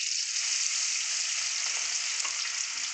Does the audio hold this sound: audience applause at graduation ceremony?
no